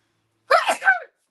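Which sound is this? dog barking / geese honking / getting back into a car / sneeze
sneeze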